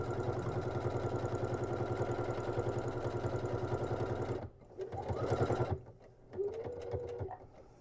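A sewing machine stitches a pocket onto a market tote bag, a steady fast mechanical whir running close and continuous for several seconds before it stops, followed by softer handling clicks and a brief restart.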